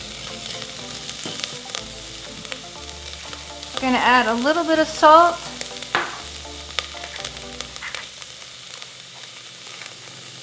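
Chopped onions sizzle in oil in an Instant Pot, a bright crackling fry under a person speaking, with a short burst of louder sizzle and stirring midway.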